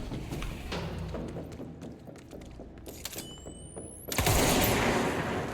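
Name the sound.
gunfire from an enemy in the video game Control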